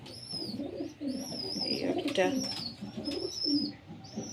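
Pigeon chicks call with thin high squeaks among soft adult cooing inside a rooftop pigeon house, heard close up while a person speaks briefly.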